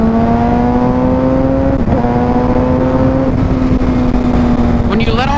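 Suzuki GSX-R 750 motorcycle engine holding a steady loud drone, its pitch sagging slightly as the throttle is eased off, then a brief rising rev near the end; a voice talks over it.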